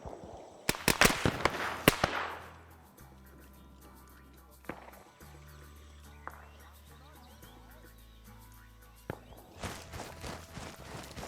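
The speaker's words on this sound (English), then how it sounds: "We're going to be attracted to those shots by the horde here." Scattered gunshots crack in an Arma-style military video game, a few sharp reports at uneven intervals, some close and others farther off, with a low engine drone and clattering underneath.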